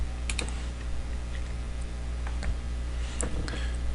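Scattered keystrokes on a computer keyboard, a few quick clicks at a time with gaps between them, over a steady low background hum and with no talk.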